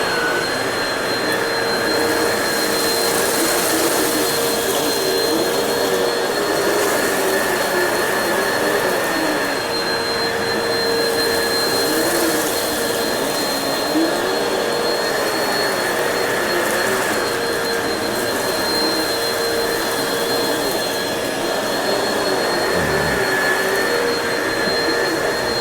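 Shark NV360 and Bissell 2252 upright vacuums run on carpet picking up tortilla chips, a loud continuous motor roar and whine that holds steady throughout with no talk.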